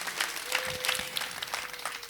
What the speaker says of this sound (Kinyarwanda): Tumukomera amashyi kuko amaze kubyemera